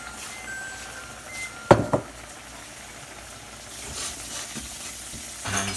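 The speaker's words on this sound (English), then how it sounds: "you take your egg that you've whisked and you just kind of drop it very lightly in places that it's boiling" Whisked egg drizzled into boiling instant ramen broth gives a faint, steady bubbling simmer with soft sizzle, broken by a brief clink of a utensil against the pot.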